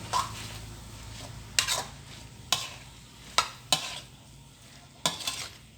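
Frog and sour bamboo shoots stir-fried in oil outdoors: a steady low sizzle broken by several sharp, close scrapes of a spatula against the pan at uneven intervals, with no voices.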